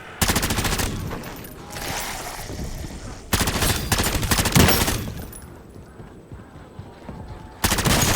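Bursts of automatic gunfire in Modern Warfare Zombies come in loud, repeated volleys with quieter gaps of echoing game ambience between them.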